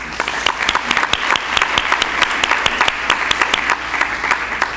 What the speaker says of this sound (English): So a round of applause for Lydia.